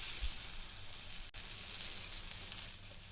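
Bread coated in besan batter sizzles on a hot tawa, a steady, close frying hiss with one brief break partway through.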